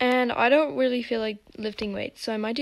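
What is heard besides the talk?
No everyday noise stands out behind the speech.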